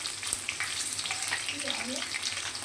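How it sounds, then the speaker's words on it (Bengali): Whole tomatoes and onions fry in oil for a mutton curry, giving a steady close sizzle with small bubbling pops and crackles and no talk. "তো পেঁয়াজ ভাজা হচ্ছে, ওর মধ্যে আমি গোটা টমেটো দেবো"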